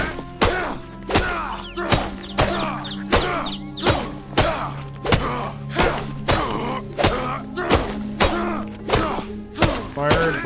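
Repeated axe chops on core wood in a VR video game, about eleven sharp thunking strikes in a steady rhythm roughly once a second, loud and close over a low ambient hum.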